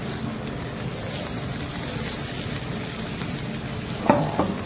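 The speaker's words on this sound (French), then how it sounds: "on va la rouler. On roule l'omelette." A porcini omelette sizzles steadily in a frying pan over lowered heat, a soft continuous hiss with a couple of brief scraping knocks near the end as it is rolled.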